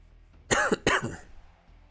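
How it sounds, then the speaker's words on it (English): Two sharp, close coughs in quick succession, each a harsh burst followed by a short rough throat-clearing tail, against a quiet background. "I do apologize for the coughing, by the way."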